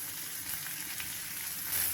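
Cumin, chopped small onions and curry leaves sizzle in hot oil in a pan, a steady close crackling fry with no voices.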